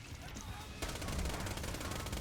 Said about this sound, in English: Do a little bit of suppressing fire.